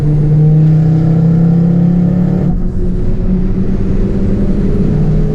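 A race car on the track at Silverstone gives a loud, close engine drone that holds steady throughout, dipping briefly midway before carrying on at full volume.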